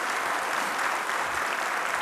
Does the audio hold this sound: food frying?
no